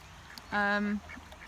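Appleyard ducks give a single drawn-out quack, loud and close, lasting about half a second against quiet farmyard background during the molting season.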